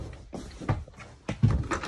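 An interior door is handled and pushed open, producing two dull thumps and a rattle of the latch in a quiet room.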